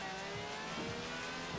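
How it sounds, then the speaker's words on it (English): A V12 car engine of over 750 horsepower revs in a driving video game, a steady sustained roar with rising and falling pitch sweeps, loud and continuous throughout with no talking. "This is a V12 with over 750 horsepower, plus bucket seats"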